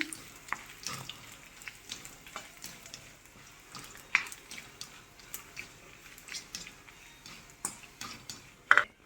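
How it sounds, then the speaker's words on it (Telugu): Dried red chillies fry in a pan, giving a soft, steady crackle broken by scattered sharp pops and light clicks, all close and fairly quiet with no talking. "ఈ ఎండుమిరపకాయలు మాడకుండా ఫ్రై చేసుకోవాలి"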